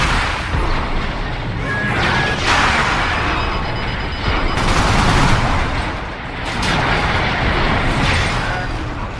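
Rockets fired in Armored Core 6: Fires of Rubicon, a loud continuous barrage of whooshing blasts and crashing impacts that swell and recede over several seconds, alone without talk.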